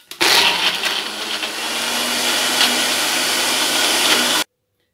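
Electric blender whirring steadily as it purees mango for lassi, a loud continuous motor drone running for about four seconds before cutting off abruptly into silence.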